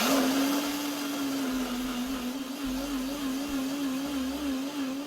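A blender purées soaked dried chilies, scallion, ginger, garlic, onion and dried shrimp with their soaking water, its motor a loud, steady whirring hum with a slightly wavering pitch throughout.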